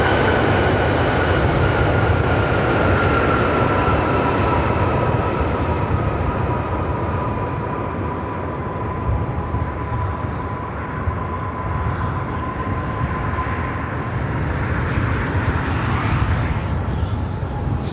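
An Emirates heavy jet airliner on approach to runway 24 right at LAX roars loudly and continuously, a broad engine rumble with a steady whine that slowly shifts as it passes close overhead.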